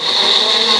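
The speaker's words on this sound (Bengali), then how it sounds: "আমি এখন বাটবো একটু পেঁয়াজ, টমেটো, রসুন, এগুলো বেটে নেব।" A kitchen blender grinds onion, tomato and garlic into a paste, a loud, steady, high whirring whine that lasts under a second.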